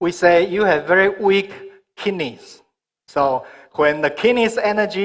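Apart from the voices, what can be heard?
No distinct noise like a dog, phone or traffic.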